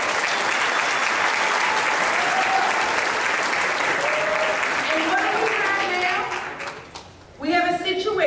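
An audience at a 2012 New York City Council Pride event applauds in a loud, sustained burst that tapers off, with a speaking voice returning at the very end.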